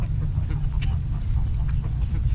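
Lakeside birds squabbling over bread, with scattered quacks and honking calls over a constant low rumble of wind or water; no talking.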